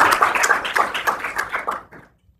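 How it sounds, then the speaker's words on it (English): Applause at an academic lecture, a modest group clapping in distinct, fairly close rhythmic claps that thin out and stop after about two seconds, leaving silence. "I think we'd like to give you a note of applause"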